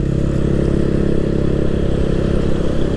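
A Yamaha Aerox scooter bored up to 200cc hums along at a steady pitch while ridden, its engine loud and close with a constant droning rumble and no voices over it.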